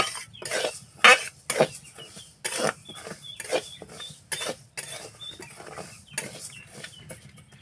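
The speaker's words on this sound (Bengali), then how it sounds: "ডালগুলো কিন্তু আমি খালি কড়াই ভেজে নিচ্ছি সিদ্ধ করার পরে" Lentils dry-roasting in an empty wok after boiling, a rhythmic series of scraping, rattling stirs in short bursts, close and fairly loud, with no talking.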